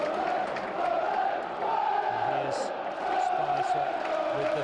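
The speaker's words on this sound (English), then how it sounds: "The crowd getting behind the lads." A football crowd at a 2006 Championship match between Burnley and Luton Town roars steadily throughout, a continuous distant swell of cheering beneath a commentator's voice.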